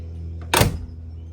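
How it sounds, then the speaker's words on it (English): A single solid thunk of a 1959 Cadillac's car door shutting, close and brief, with a short muffled rattle after. "listen to this door shut"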